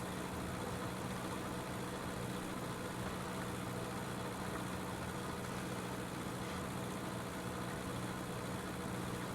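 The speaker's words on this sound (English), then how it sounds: "This diesel engine's not good at hills." Diesel car engine running in The Long Drive video game, a constant rough low rumble with hiss, steady and unbroken, no talk.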